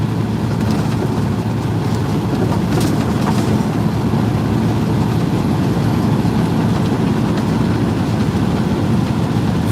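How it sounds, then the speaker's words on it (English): A steady, continuous rumble and clatter of a passing freight train of about 50 to 70 cars, rolling wheels and cars rattling without a break. "Yeah, nice little freight train."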